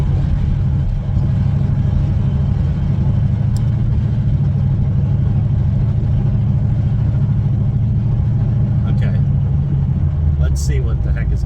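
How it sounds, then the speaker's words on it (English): Car driving along with its front lip hanging loose and scraping underneath, a steady low engine drone throughout with a faint rattle and a few higher scrapes near the end. "I heard something dragging under the car"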